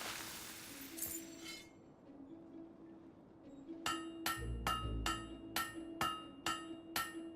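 In the Fable 3 video game, a hammer strikes a blade at a forge, giving eight sharp, ringing metallic clinks at a steady rhythm after a brief swell of ambient sound.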